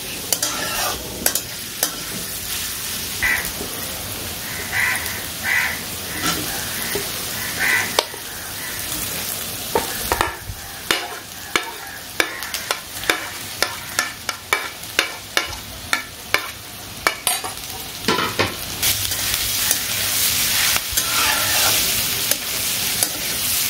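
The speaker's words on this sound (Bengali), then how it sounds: "আমি এখানে কুচো লঙ্কাটা আর বিনসটাকে অ্যাড করে দিয়েছি। এটাও একটু হালকা ভাজা হবে" Green chillies and beans stir-fried in a pan, a steady sizzle broken by repeated scraping and clacking of a spatula stirring, close and continuous with no talking.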